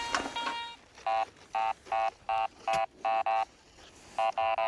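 A metal detector sounds a run of short electronic tones during a search at a country homestead hedge, steady and evenly pitched, nine or ten bursts in a loose rhythm, close and clear with a little rustling before.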